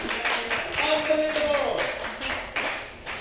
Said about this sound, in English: Clap. Clap. Somebody clap.